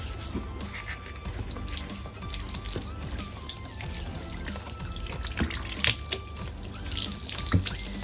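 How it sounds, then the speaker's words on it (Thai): Water runs and splashes while a screen printing block is rinsed clean, a steady trickling wash with irregular drips and spatters, fairly faint and without speech. "เสร็จเรียบร้อยครับสำหรับการล้างบล็อกสกรีนง่ายๆครับ"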